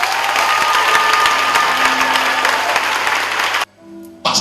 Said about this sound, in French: On acclame fortement.